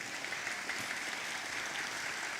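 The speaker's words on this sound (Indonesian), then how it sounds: "Saya minta tepuk tangannya untuk MDU." A crowd applauds at an event, a dense, steady wash of many hands clapping together, sustained and fairly even for the whole stretch with no speech over it.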